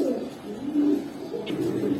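Giribaz pigeons cooing at close range in a pigeon market, a soft low throaty coo rolling on continuously for a couple of seconds.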